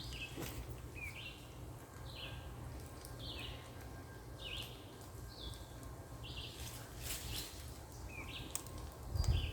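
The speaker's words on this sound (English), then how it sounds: "So I can't actually see that bird right now, but if you listen closely you might be able to hear it." A distant wild bird repeats a short call at a steady rhythm, faint over a low steady background rumble near the Rouge River.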